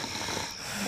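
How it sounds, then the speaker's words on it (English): A brief, breathy snore from a performer on a children's TV show, one rough, noisy breath sustained for under a second against a busy background. "Snoring keeping you awake, is it?"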